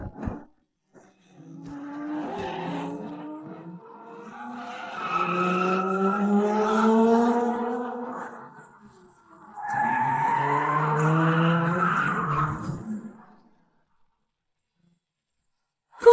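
A car ghost-drifting around corners at full throttle, tires squealing in two long wailing bursts with rising pitch, loud and close, with no talking.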